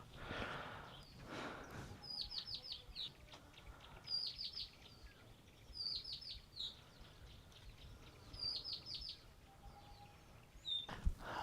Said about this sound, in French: il y a beaucoup d'oiseaux là derrière, avec le lac de Nakuru.